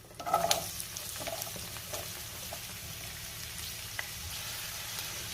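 Green chilli and onion go into two spoons of hot oil in a kadhai. A brief burst of crackling at the start settles into a quiet, steady sizzle with a few pops. No one speaks.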